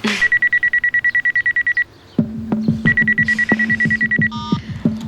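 A telephone rings in repeated electronic trills, then breaks off and gives way to a loud, rapid sequence of tones and clicks, followed by more ringing and a short chirp.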